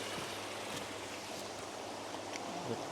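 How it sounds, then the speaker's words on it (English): A small creek in the Jocassee Gorges flows with a steady, close rushing and gurgling of water, constant and fairly soft throughout, with no voices. "Pretty little creek."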